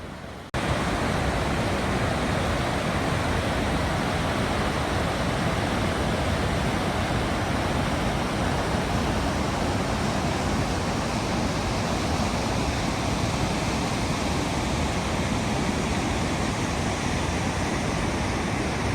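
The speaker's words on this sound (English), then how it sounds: "This is Firehole Falls." Firehole Falls on the Firehole River in Yellowstone, a loud, constant broadband roar of rushing falling water, steady and close for the whole stretch, with no voices.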